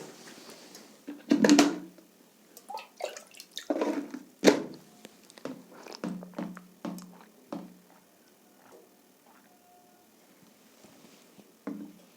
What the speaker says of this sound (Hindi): तब तक मैं पानी पी लूँ।